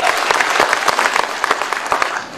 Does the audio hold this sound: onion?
no